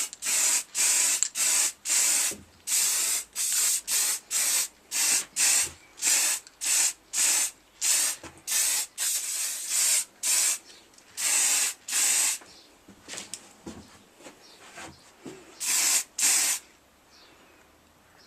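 Aerosol spray putting a thick coat on a garage side-mount project, a long series of short close hissing bursts in a steady rhythm, followed by a few more bursts after a brief pause.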